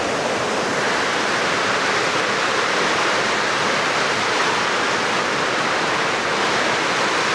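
Heavy rain pours down steadily during a windy storm at a house with a leaking roof, a dense, continuous roar of water with no pauses and no voices.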